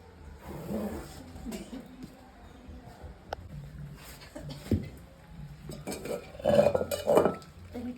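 Quiet scraping and knocking of a ladle working a thick mixture in a pan, with occasional metallic clinks and a louder stir near the end.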